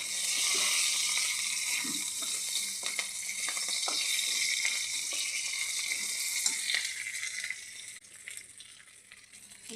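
Ingredients fry steadily in a hot pan with a dense, continuous sizzle, loudest at the start and easing toward the end, with occasional stirring clicks and no talking.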